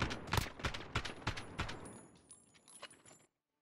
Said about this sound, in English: That machine gun was good.